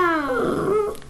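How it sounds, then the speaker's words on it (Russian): A dog gives a single close vocalization lasting about a second, a short, whiny yelp with a falling pitch. No one speaks. "иногда гавкает"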